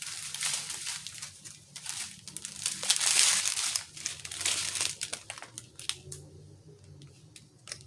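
Plastic packaging crinkles and rustles as it is unwrapped close by, with dense crackling bursts, one sharper crunch partway through, and quieter handling toward the end.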